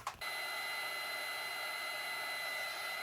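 Steady whirring hum of a hair dryer or heat tool drying mica stain on embossed paper, loud and continuous after a brief start.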